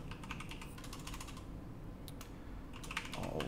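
Steady typing on a computer keyboard during a filament-painting software session, with quick, close keystroke clicks running nearly the whole time at a low, even level.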